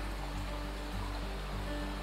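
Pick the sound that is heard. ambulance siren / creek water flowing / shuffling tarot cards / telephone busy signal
creek water flowing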